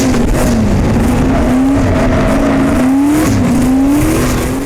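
A 1992 Lexus SC300 swapped with a 2002 Corvette LS1 V8 and a custom turbo kit making 500 wheel horsepower drifts, its engine droning loud and close in wavering revs under continuous tire squeal.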